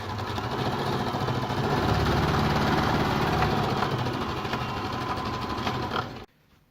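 A sewing machine stitches fabric for sleeve puffs with a fast, steady mechanical whirr that runs loud and close for about six seconds, then cuts off abruptly.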